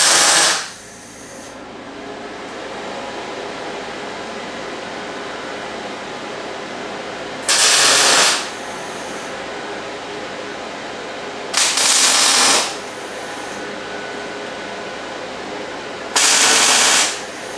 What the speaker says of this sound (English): next step is to tack weld these 4 corners